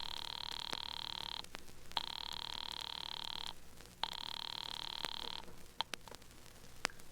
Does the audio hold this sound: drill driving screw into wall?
no